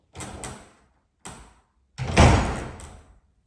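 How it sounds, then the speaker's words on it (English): Door sliding and bumping shut in a yoga space: a couple of short scrapes, a pause, then a louder rolling slide ending in a thud, close and alone. "Close the door."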